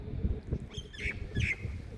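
A myna bird perched on a telegraph post in Uzbekistan gives two or three short, bright rising calls at moderate distance, over a dull outdoor background with low rumbling.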